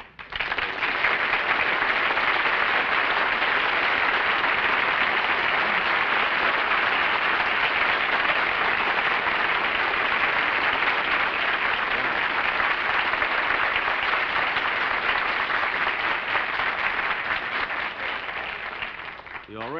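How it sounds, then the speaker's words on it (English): Sustained, loud studio audience applause greeting guest star Gary Cooper on a television comedy show, a dense wash of clapping that holds steady for about twenty seconds before tapering slightly at the end. "Got more applause than I did."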